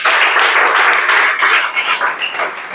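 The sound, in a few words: loud clapping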